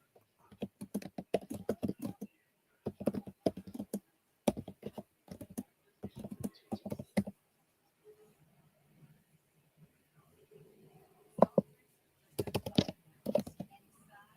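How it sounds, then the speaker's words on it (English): Someone types on a computer keyboard in quick bursts of clicking keystrokes, separated by short pauses, close and fairly quiet, with a brief voice near the end. "let me go ahead and type it for you"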